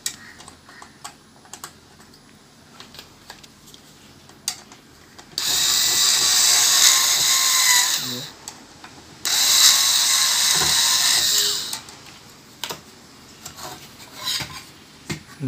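Power screwdriver or drill driving screws and tightening nuts and bolts during a node repair, two sustained loud whirring bursts of a few seconds each, with faint clicks and handling of tools and parts between them.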